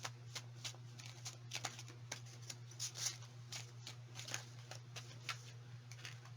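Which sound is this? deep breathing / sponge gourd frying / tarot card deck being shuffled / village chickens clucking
tarot card deck being shuffled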